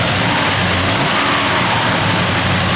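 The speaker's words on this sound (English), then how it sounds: "Good running, big block," A 1970 Chevrolet Chevelle SS with a big block engine, running loud and close with a dense, steady throaty roar throughout.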